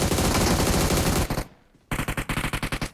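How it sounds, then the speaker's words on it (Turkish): Bots firing guns in an online shooter game: a sustained burst of rapid automatic gunfire, a brief pause, then a second string of distinct, evenly spaced shots, loud and close. "Aha botlar sıkıyor."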